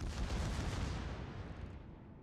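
Secondary gun batteries on a warship firing in World of Warships, a dense rolling barrage of heavy booms that stays loud and continuous before easing off slightly at the end.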